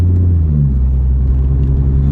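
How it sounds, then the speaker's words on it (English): A supercharged Audi S4 pulls away gently, a low, smooth engine rumble close by that holds evenly throughout without hard revving. "I'm now setting off in the Audi S4, nice and gently, because that's what you should do."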